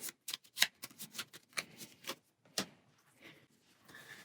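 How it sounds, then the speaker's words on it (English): Board game cards riffled in a quick shuffle, a series of sharp close papery snaps and flutters in uneven bursts, then softer rustling toward the end, with no talk. "Give this a quick shuffle."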